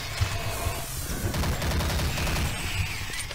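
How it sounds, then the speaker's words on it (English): Rapid machine gun fire from the Doom 3 UAC Administration level as an imp is gunned down, a dense rattling burst that runs continuously at close range under a low droning game ambience, with no voices. "I took out the imp with that machine gun"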